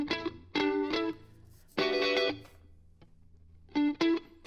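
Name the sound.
electric guitar with plugin effect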